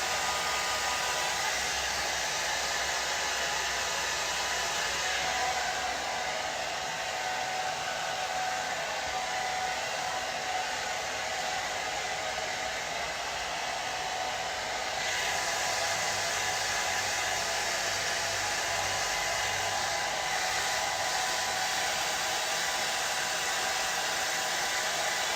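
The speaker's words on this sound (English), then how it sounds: "I'm just going to blow dry the surfaces that I'm going to continue to work on today." Hair dryer blowing steadily on a painted table's surfaces, a loud continuous whoosh lasting throughout with slight shifts in tone, no voices.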